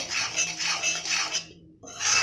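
A spoon scrapes and stirs cooked dal in a pot in a Bengali mango dal kitchen, giving repeated rhythmic rasping strokes, close and fairly soft, with a short pause before one more stroke.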